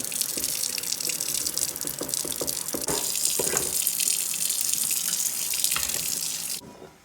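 Boiled noodles being drained into a strainer, a steady close pour of water splashing and rushing throughout, with scattered clinks, before it cuts off at the end.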